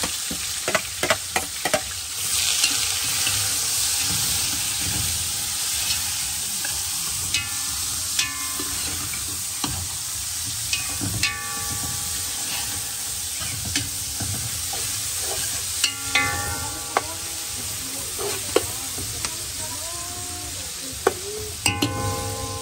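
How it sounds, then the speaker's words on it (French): Onion sizzles in a pan with a continuous frying hiss, punctuated by repeated sharp scrapes and clinks of stirring, recorded close with no one speaking. "L'oignon attend de roussir pour le crevette"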